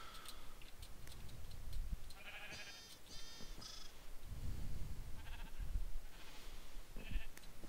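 Sheep bleat in a video game, several short nasal calls at intervals over a steady background of game sound, with no one talking.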